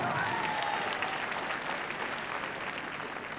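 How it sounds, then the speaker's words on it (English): Crowd at the Crufts international dog slalom competition applauds a finalist, a broad continuous wash of clapping that holds steady and eases slightly at the end. "And an equally big round of applause for Pia Glover."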